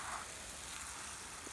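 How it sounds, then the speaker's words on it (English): Water sprays steadily onto a dry garden bed on a patio, a soft continuous hiss with light pattering like rain on soil, moderately close and alone. "I'm just giving this bed a little bit of water"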